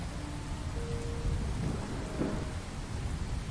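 Thunderstorm in a video game, steady heavy rain hissing on surfaces with low rolling thunder rumbling underneath, moderately quiet and continuous with no voices.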